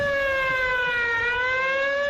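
A wailing siren used as a sports-talk factual-error alert sounds loud and steady for about two seconds, its pitch holding with only a slight dip and rise, with no voices over it.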